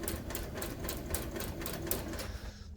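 A non-professional sewing machine strains to stitch slippery seat upholstery for a 1966 GMC seat rebuild, its needle clattering in a fast, steady rapid-fire rhythm, fairly quiet and close, with no talk.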